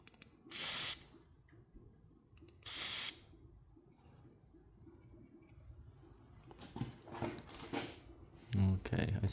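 Lubricant sprayed onto the parts of a loud garage door: two sharp, close hissing spray bursts, followed later by several shorter spritzes over a low background.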